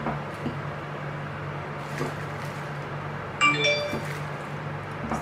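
A phone notification rings out once in a kitchen while burgers are being assembled, a short bright chime of clear ringing tones rising over faint background hum.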